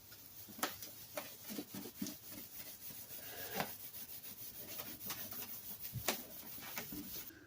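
Johnson's paste wax rubbed by hand onto an antique Disston saw, a close, soft scrubbing with repeated brushy strokes and a few sharper swipes, steady and quiet with no talking.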